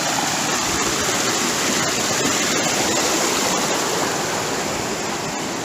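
A creek flows over rock on a hike near Rachel Lake, making a steady, loud rushing and babbling with no break, close to the microphone and without voices.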